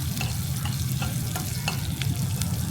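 Green chilies sautéing in a hot pan give a steady, close sizzle, broken by a series of light scraping taps as they are stirred, with no talking.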